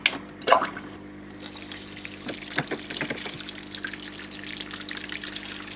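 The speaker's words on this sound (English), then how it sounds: "Another waterfall test." Small waterfall trickling in a tropical shrimp paludarium, a close steady splashing and dribbling of water with a few louder handling knocks at the start.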